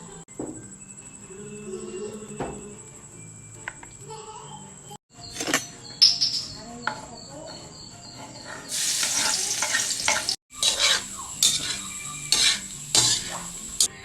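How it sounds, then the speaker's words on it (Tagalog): Garlic cooking in oil in a pan, a steady sizzle and fry with metal utensil scraping and stirring clinks, intensifying into louder bursts of sizzling toward the end. "aton lutoan sa mantika"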